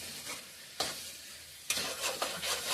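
Mutton masala for village-style mutton sambar, frying in a pan, with a low steady sizzle broken by a few sharp stirring scrapes, close and fairly quiet.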